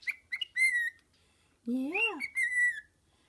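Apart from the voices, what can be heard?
pet bird chirping and whistling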